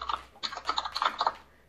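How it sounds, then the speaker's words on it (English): Rapid computer keyboard typing in bursts of clicky keystrokes, close and fairly loud, heard during a Minecraft session with no voices. "that's the keyboard!"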